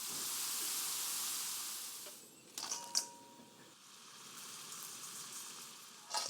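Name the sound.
French fries frying in hot oil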